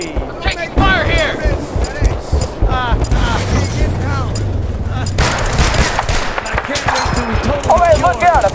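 Rapid bursts of automatic gunfire and explosions from the video game Battlefield Bad Company 2 crackle throughout, loud and dense, with players talking over the shooting.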